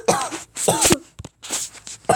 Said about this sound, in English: I also have a cough